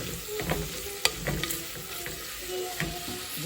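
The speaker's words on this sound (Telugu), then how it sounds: "ఉల్లిపాయల కన్నా ముందు జీడిపప్పు వేసేసేయండి, తర్వాత మిగతావన్నీ యాడ్ చేస్తూ ఉండండి." Cashews sizzle and fry in oil in a pan while being stirred for Nellore-style katte pongal, a steady close frying hiss broken by a few sharp clinks of the spoon.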